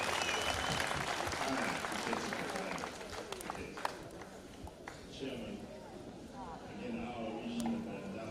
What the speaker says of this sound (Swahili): Makofi kwa gavana wetu.